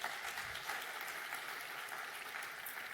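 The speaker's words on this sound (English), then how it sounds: "Round of applause." Faint, distant applause from an audience at a business awards event, a soft continuous patter of clapping heard from afar at low level.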